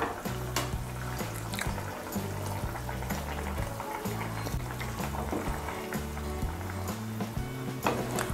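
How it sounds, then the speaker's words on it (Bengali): Ghee heating with garam masala powder in a pan for cauliflower koftas, a soft continuous sizzle and bubbling that stays low under steady background music. "ঘি গরম মশলার গুঁড়োটা মিশিয়ে নিয়ে এর মধ্যে আমি ভেজে রাখা কোপ্তাগুলো দিয়ে দেব।"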